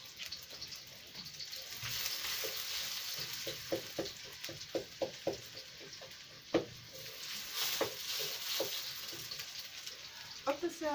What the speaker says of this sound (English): We are just frying it, as you can see.